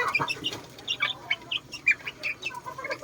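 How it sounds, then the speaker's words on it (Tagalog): Chicken sounds from Indio Gigante birds: a string of short clucks and chirps at moderate distance, with no talk. "Ito po, yung breed po nito ay Indio Gigante"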